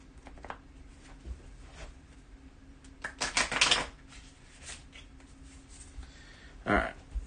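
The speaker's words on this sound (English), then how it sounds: "Give it a quick crappy shuffle." A deck of event cards for a tabletop game gets a quick, rough shuffle, with brief papery riffling bursts near the middle and again near the end, standing out over a quiet room.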